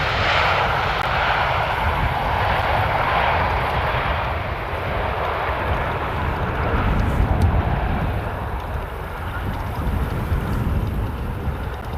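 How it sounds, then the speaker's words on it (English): A KLM Boeing 737 landing at Amsterdam Schiphol Airport on the Polderbaan gives a broad, continuous jet engine roar, steady and fairly loud, with a low rumble swelling slightly midway. "And that is KLM landed just now from Budapest to Amsterdam."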